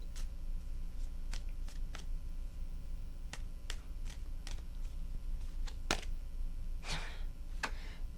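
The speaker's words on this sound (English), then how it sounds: "Three shuffles." Tarot cards shuffled by hand in three bouts, giving soft repeated riffling clicks and flicks up close, with sharper snaps near the end and no talking.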